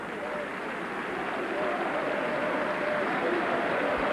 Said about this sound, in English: A little of applause